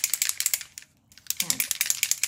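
A can of spray foundation shaken hard, giving rapid rattling bursts with a brief pause midway, close and loud with no talking.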